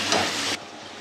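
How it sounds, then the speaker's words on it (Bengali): Chicken pieces fry in hot oil with a loud, hissing sizzle that cuts off abruptly after about half a second, leaving a faint low hum and no talking. "আমি চিকেনগুলোকে ভালো করে ভেজে নিচ্ছি"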